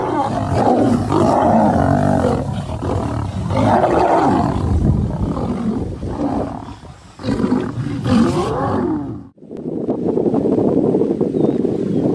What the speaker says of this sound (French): Le combat pour le pouvoir au sein d'une troupe de lions est intense et a l'air incroyablement épique.